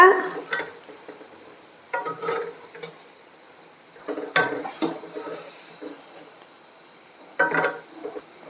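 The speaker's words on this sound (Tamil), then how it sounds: "மிதமான தீயில் இந்த மாதிரி ஃப்ரை பண்ணி எடுக்கணும் மெதுவாக திருப்பி விடுங்க" Gulab jamun frying in oil over a medium flame and being turned gently, heard as soft scraping and stirring bursts over a low sizzle, with quiet gaps between the turns.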